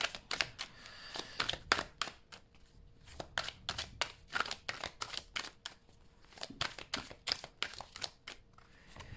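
Tarot cards being shuffled and laid down in a reading, a dense run of crisp, riffling slaps and flicks, close and fairly loud, with short pauses between bursts and no talking.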